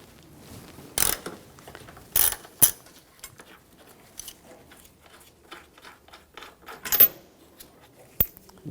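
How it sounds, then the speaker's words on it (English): A hand ratchet with an E14 socket works a bolt on a 2009-2013 BMW 328i xDrive 3.0L inline-six, giving quiet scattered clicks and short rattling bursts close by. "Using a E14 socket, take this bolt out."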